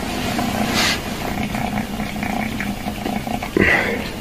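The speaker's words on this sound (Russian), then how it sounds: "как мурчит, он тут мурлыкает" A rescued stray kitten purrs steadily and close up while eating, a soft continuous rumble with faint smacking, and someone talks over it.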